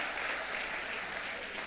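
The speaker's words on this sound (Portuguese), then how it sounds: "Você pode aplaudir Jesus por isso?" A church congregation applauding, steady dense clapping from many hands at a fairly faint, even level with no gaps.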